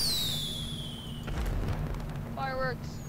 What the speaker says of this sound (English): Fireworks, flares.